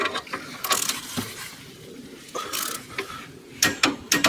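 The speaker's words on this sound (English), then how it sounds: "So it's a 9/16 socket, and we got a 3/8 torque wrench." Ratcheting clicks and metallic mechanism sounds from a 3/8 torque wrench with a 9/16 socket as brake bolts are tightened on a 1973 Chevy Impala Wilwood rear disc brake conversion. The clicks come in irregular short bursts, close and moderately quiet.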